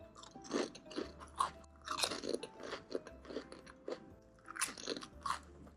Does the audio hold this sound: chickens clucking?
no